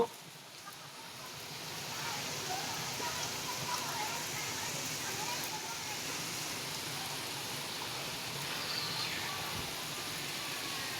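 Steady downpour of rain with a constant broad hiss and patter, heard from nearby without anyone speaking.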